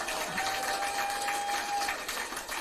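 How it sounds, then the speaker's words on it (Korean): Crowd clapping at an outdoor political campaign rally for a Sejong mayoral candidate, a steady dense wash of applause from many hands throughout, with a faint tonal hum running beneath. "여러분 강승규 형 용돈 좀 더 달라고 박수 한번 쳐주세요."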